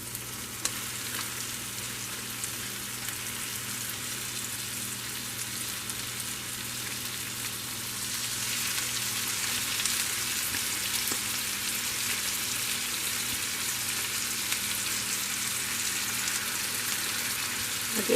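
Ground turkey frying in a pan with cooked-down onions and seasoning for an enchilada casserole, a continuous hissing sizzle that grows louder and denser partway through.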